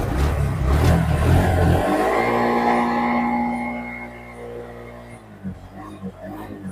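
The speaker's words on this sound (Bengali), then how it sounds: "আমি একটু আপনাদেরকে এক্সেলেটরটা একটু ধরে আপনাদেরকে একটু দেখাই যে গাড়িটার সাউন্ডটা কেমন।" A Bajaj CNG auto-rickshaw engine, parked and running, revved with the accelerator: a loud rough rising roar that holds, then drops back toward a lumpy idle with a few puttering pops.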